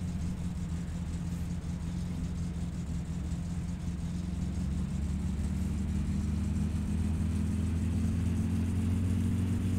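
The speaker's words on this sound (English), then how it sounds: "Car's so friggin' loud." A loud car engine in the driving game My Summer Car drones steadily for the whole stretch, a thick low rumble with a slowly rising pitch toward the end and no talk over it.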